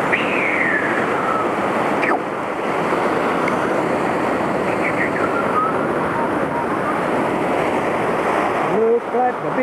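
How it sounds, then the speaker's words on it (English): Big ocean surf rolls in continuously as loud, broadband wave wash with wind buffeting the microphone, and voices are heard over it. "Looks like the big waves are coming."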